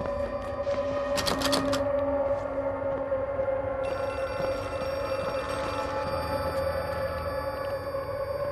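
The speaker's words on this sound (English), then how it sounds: "It's that phone, I'm guessing." A telephone rings in the horror game Outlast II, bright bell trills early on over a droning, eerie ambient hum with faint high tones, no voices.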